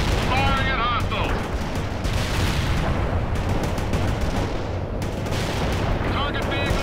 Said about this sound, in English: Bradley firing from position. Moving to fighting position. Locking hostiles. Firing at hostiles.